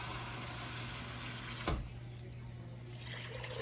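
Water poured into thin gravy in a cooking pan, a continuous faint splashing pour with a brief louder knock midway.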